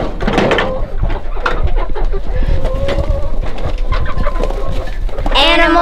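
Chickens and other poultry cluck and call on a homestead farm with ducks and rabbits, several close, irregular bird calls over a steady background, with a louder squawk near the end.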